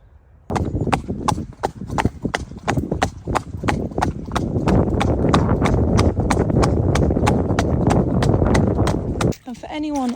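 Horse hooves clip-clop at a brisk, even marching pace on a hard road during a morning hack, close and loud, continuing steadily throughout the clip.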